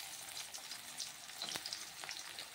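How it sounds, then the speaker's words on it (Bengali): Sliced onions hit hot oil in a kadai for a chicken pakora kosha, giving a faint, steady sizzle with crackling pops and a brief sharper spatter partway through, with no voices. "আর এখানে আমি পেঁয়াজগুলো দিয়ে দিলাম।"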